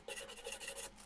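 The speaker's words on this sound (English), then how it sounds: "all we're going to do is scrape the screws to remove some of the surface rust that's on there." Surface rust being scraped off old tea trolley screws, a steady close rasping scrape in a few quick back-and-forth strokes, alone with no talk.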